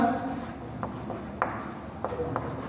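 Chalk or marker strokes on a board during a trigonometry lesson: a few short, scattered scratches and taps, fairly faint, over a quiet room.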